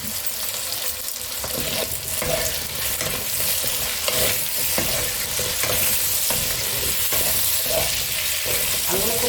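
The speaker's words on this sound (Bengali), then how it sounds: "আলুগুলো খুব ভালো করে ভেজে দিচ্ছি আমি।" Potatoes seasoned with turmeric and salt fry in a pan with a loud, continuous sizzle, while repeated scraping and tapping of a spatula stirs them throughout.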